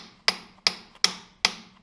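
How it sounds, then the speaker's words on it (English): A brass hammer strikes a bushing on a Kubota tractor five times in a steady rhythm, each sharp metallic tap close and ringing briefly before the next. "you're really gonna need to make sure that you have a brass hammer and not a steel one"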